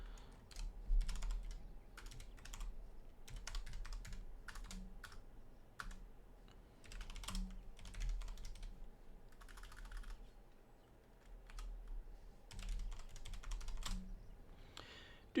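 Steady, uneven clatter of keys on a computer keyboard, bursts of quick taps with short pauses between, close and fairly quiet, no voices.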